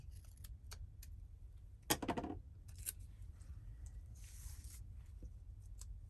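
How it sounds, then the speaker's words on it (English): Scissors snip through a yellow paper butterfly sticker from a sticker book, making one brief, crisp, close cutting burst in an otherwise quiet room. "I'm going to cut this butterfly."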